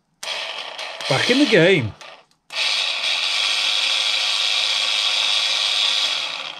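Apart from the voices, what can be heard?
SPID RAU azimuth antenna rotator running after repair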